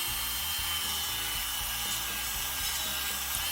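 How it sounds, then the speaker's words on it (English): Polishing a coin ring, a steady loud whirring, rasping buzz from a spinning polishing tool, continuous and close with no talk. "the actual polishing of this coin ring is taking much longer than the actual making of it"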